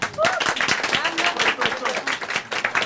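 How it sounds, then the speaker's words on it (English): Scattered clapping from a small group at a Bollywood book launch, uneven and fairly close, with some voices murmuring underneath. "I think you all can give a big round of applause."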